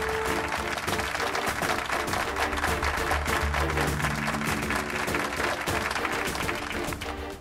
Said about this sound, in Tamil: இவர்களுக்காக பலத்த கைத்தட்டலை எதிர்பார்க்கிறேன்.